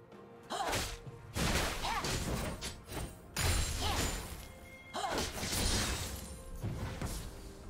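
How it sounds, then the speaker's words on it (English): A turret crumbling in a League of Legends match, a Fizz versus Zed mid lane game: heavy crashing impacts and smashing debris in several loud bursts over steady game ambience. "Red team's turret has been destroyed."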